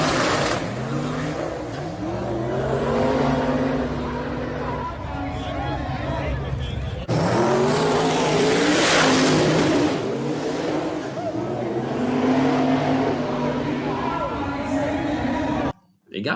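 Racing car sliding sideways with its engine revving hard, loud rising and falling engine roar and crowd chatter, with people talking over it throughout.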